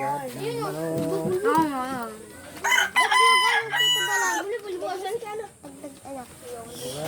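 A rooster crows loudly in a drawn-out call, with other fowl clucking nearby and voices and children's chatter around it.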